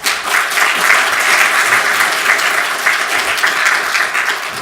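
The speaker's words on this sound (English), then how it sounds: "Please give a warm round of applause for Tim Lee." A university panel audience at UCLA breaks into a warm round of sustained applause, dense and even from start to finish before tapering slightly at the end.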